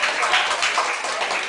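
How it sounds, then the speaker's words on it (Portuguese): A group of people clapping hands at a friendship tea gathering, a dense, continuous patter of many claps close by. "Amor, bata palmas para a sua vida."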